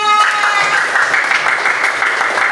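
A classroom of students claps together in a short burst of applause, fairly loud and close, following a sustained tonal sound at the start.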